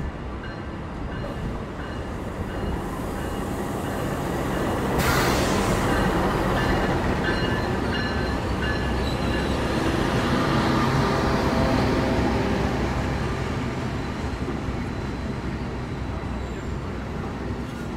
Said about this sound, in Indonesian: Ini dia kereta api Parahyangan baru masuk di stasiun Gambir.